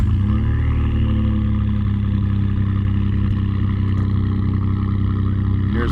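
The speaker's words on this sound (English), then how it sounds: "She's gonna crank it so you can hear it." A 2014 Ford F150 V6 runs at a steady, loud idle, a continuous low rumbling drone with a slight rise in pitch early on, heard alone without talk.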